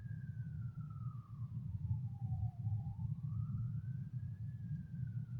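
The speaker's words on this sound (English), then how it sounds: "You hear the siren?" A siren wails in a slow rising and falling sweep over a loud, steady low rumble of traffic or engine noise.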